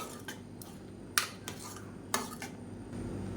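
Karuppu kavuni rice mixture is stirred in a pan, with a few sharp clinks of a utensil against metal standing out over a soft, steady scraping background.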